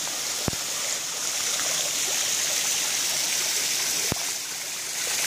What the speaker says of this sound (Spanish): ahorita está llenando la de agua fría para hacer un contraste